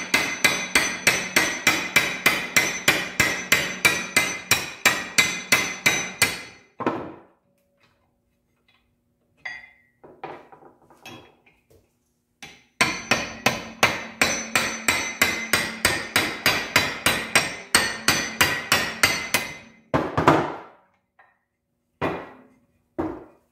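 A hammer strikes a roll pin in rapid, steady bursts to drive out the square sliders of a Polaris RZR, two long runs of metallic taps separated by a few scattered knocks and pauses.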